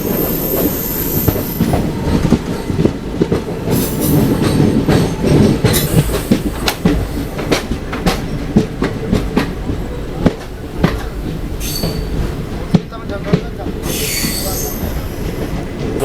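A passenger train pulls into Ottapalam railway station, heard from on board, with loud squealing wheels, clattering rail joints and rumbling carriages, and a few faint voices nearby.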